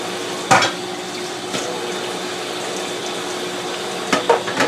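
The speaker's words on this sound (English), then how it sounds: "I'm going to wash my hands" Hands are washed under a running tap at a kitchen sink, giving a steady, even rush of water. A few brief knocks and clinks from the sink sit on top of the flow.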